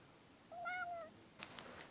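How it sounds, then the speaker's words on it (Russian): A hungry young stray kitten in an open field gives one clear, drawn-out meow up close, followed by a brief softer rustle or second sound, with no talking. "Здесь прибился котенок, откуда-то взялся в поле."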